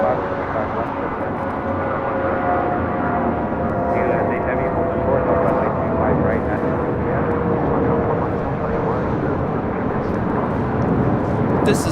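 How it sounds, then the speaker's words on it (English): United Airlines Airbus A320 taking off from LAX, a steady, loud jet roar with a faint whine running through it and no break for the whole stretch. "This is United Airlines 319 taking off to Puerto Vallarta on an A320."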